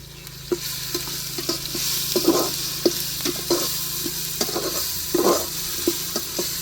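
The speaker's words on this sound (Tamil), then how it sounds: "இப்போ நம்ம இஞ்சி பூண்டு பேஸ்ட்டு போட்டு ஆட் பண்ண போகிறோம்" Ginger garlic paste frying with golden-browned onions for a country chicken curry, stirred in repeated scraping strokes over a steady close sizzle.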